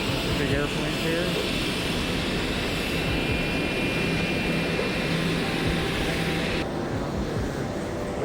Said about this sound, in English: Big airplanes here.